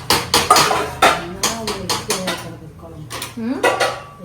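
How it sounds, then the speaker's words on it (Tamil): A spoon scrapes and clanks against a pot while ground country chicken curry paste is stirred, about a dozen uneven metallic knocks close by, with a brief low voice near the end. "கிண்டிட்டே தான் இருக்கேன்"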